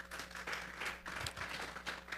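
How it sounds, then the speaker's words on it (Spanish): A church congregation claps in quick, uneven bursts, faint and distant over a low hum. "Denle un fuerte aplauso pues al Señor."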